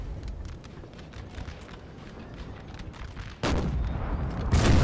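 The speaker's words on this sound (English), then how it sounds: "you gotta look where your artillery is firing" Artillery volleys boom across a Napoleon Total War battlefield, with a dense rattle of scattered gunfire and cannon shots followed by louder, heavier blasts toward the end, with no voices.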